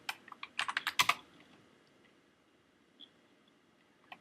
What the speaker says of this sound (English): and I'll type right here.